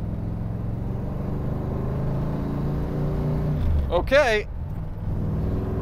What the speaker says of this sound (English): I'm feeling good enough about this car to get it up on a highway on-ramp here so I can open it up a little bit